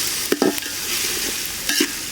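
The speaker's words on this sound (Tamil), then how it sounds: "இஞ்சி பூண்டு வெங்காயம் தக்காளி எல்லாம் நல்லா வணங்கிடுச்சு." Ginger garlic paste, onion and tomato sautéing in a pan make a continuous close sizzle, broken by a few quick scraping stirs of a spoon.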